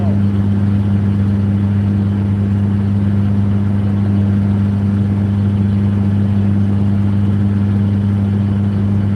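A car cruising at around 60 mph is heard from inside as a loud, unbroken low drone of engine and road noise that stays level from start to finish.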